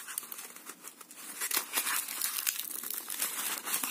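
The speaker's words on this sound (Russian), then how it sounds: "Я ее распечатываю." Plastic packaging around a birthday gift crinkles and crumples as hands tear at it, giving close, continuous rustling with sharper bursts.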